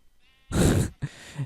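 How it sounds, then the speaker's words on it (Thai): A Minecraft sheep gives a loud, close bleat, followed by a shorter, softer second bleat. "นี่แกะน้อยน่ารัก"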